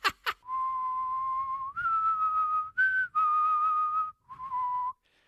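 A person whistles an eerie, drawn-out tune imitating the whistle that heralds a character's arrival in Puss in Boots 2, with five sustained notes after a couple of sharp clicks, clear and close.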